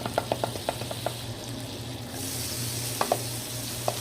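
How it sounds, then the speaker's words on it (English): Butter melting in a pan over low heat for a cheesy scalloped potato sauce, a steady close sizzle with light, irregular taps and clicks on top. "So we're going to put the rest of that butter in the pan."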